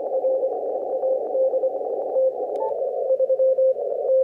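A steady radio tone comes through a 600 Hz roofing filter on an amateur receiver, a narrow whistling note over a band of filtered hiss. It holds constant for several seconds with a brief chirp midway and no talking.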